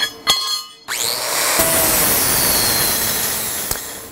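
A power grinder smooths the metal parts of an octagonal end table: after two sharp knocks, the motor spins up into a loud, steady, high whining grind that holds close by to the end.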